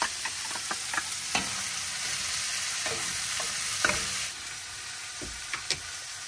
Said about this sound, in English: Give it a stir around.